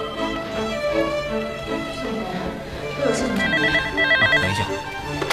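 A telephone rings in an office setting, its repeated electronic tones sounding in bursts over a busy background, with voices talking around it.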